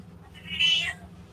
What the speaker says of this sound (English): You are noisy, Moo Meow.